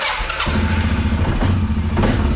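A Suzuki King Quad 750 ATV engine cranks and catches about half a second in, then runs on with a steady, close, loud rumble and a small burst of throttle near the end.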